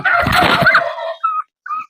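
A native Siruvidai rooster, a Tamil country chicken breed, gives one loud, harsh call lasting about a second, then two short, higher clucking notes follow, close by and with no other sound.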